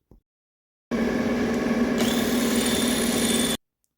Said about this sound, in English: drill out the other holes